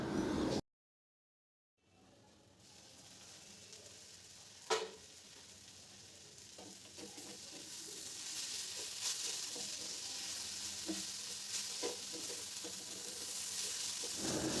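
Potato, eggplant and pointed gourd pieces frying together in a pan with turmeric and salt, a steady broadband sizzle that swells louder after a brief silent gap, with a few faint clinks.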